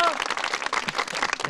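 A studio audience on a Zonguldak television show applauds in a short, dense burst of clapping right after a folk song, with voices mixed faintly into the noise.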